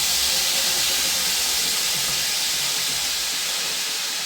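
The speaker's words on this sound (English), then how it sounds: "The tomato is ready, so I'll just add it in the oil straight." Blended tomato poured straight into hot oil for a tomato stew sends up a loud, continuous hiss of spitting and steaming that holds steady throughout.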